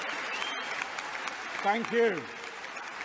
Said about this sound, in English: I take it that applause was for Bill Shankly.